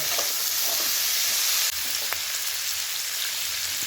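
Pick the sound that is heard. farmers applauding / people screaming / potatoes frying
potatoes frying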